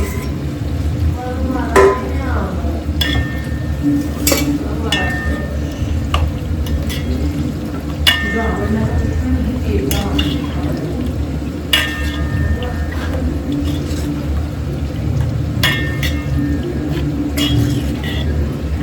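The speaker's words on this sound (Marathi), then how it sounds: "चिकन टाकून घ्यायचं जसं मॅरिनेट केलं होतं तसं तसं डायरेक्ट कढईमध्ये टाकून द्यायचं आहे हलवून घ्यायचं आहे" Marinated chicken sizzles and fries in a kadhai while being stirred, with scattered clinks of a spoon against the metal pan over a steady frying hiss throughout.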